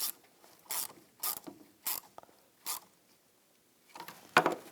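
A ratchet tightens the battery negative terminal nut on a 2010-2017 Chevrolet Equinox in a series of short, close ratcheting clicks in spaced bursts, ending with a sharper metallic clatter.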